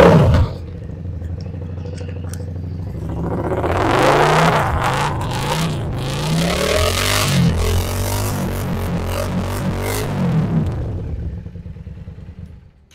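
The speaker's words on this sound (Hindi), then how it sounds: "मैंने बाइक स्टार्ट किया है तो आप थोड़ा सा इसका साउंड भी चेक कर लें" A Yamaha Dragstar cruiser motorcycle engine idling nearby, with a few revs in the middle that rise and fall in a loud throaty rumble before settling and cutting off.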